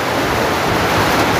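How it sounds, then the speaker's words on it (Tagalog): Heavy rain pours in a dense, unbroken roar of broadband hiss, loud and close with no gaps, likely during an afternoon downpour. "Ang lakas ng ulan."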